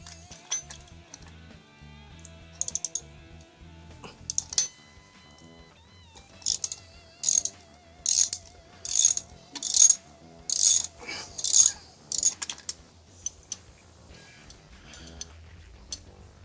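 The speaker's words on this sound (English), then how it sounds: "we undo it with a 5/16" A hand ratchet backs out a small bolt on a Harley-Davidson Evo engine, making bursts of close clicking strokes in a rhythmic series. Faint tonal background hum sits under it.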